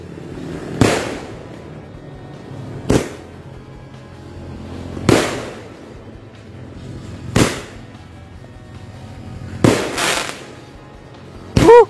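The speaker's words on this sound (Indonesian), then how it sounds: "mercon Roman Candle yang jumbonya" Five loud jumbo Roman candle firework bursts boom out at irregular intervals on a festive night, each a sharp crack trailing off, with quiet outdoor ambience between them.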